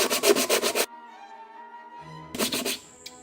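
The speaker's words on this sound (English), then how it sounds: "just give it a bit of a sand on the face and the back side of it just to smooth it all up" A wooden disc sanded by hand on its face and back to flatten it, short bursts of rapid rubbing strokes at the start and end with a quiet gap between.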